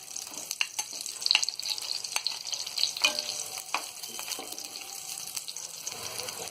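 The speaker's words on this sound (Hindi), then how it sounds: "तो प्याज को हमने यहाँ सिर्फ 1 से 2 मिनट ही फ्राई किया है।" Chopped onions fry in a little oil in a pan, giving a soft, light sizzle broken by occasional clinks and stirring scrapes, with no talking.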